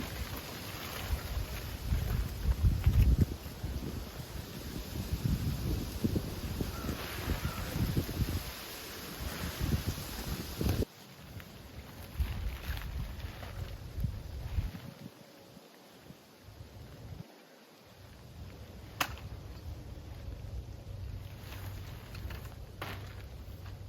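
Steady wind gusting and buffeting the microphone on a cold day during a hot tent and titanium stove setup, with rumbling low-end noise that eases and drops out briefly before picking back up.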